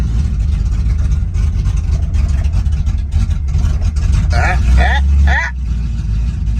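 A Ford Mustang Fox Body engine, started after sitting for months, runs with a loud rough rumble close by, while a person talks over it.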